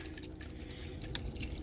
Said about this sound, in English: now we're just going to add our stock.